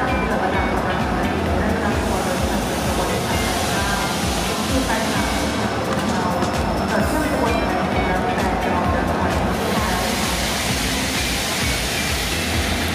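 Busy interior of Hua Lamphong station in Bangkok while waiting for a KIHA 183 diesel train, with a steady loud wash of station noise, rumbling machinery and crowd chatter throughout.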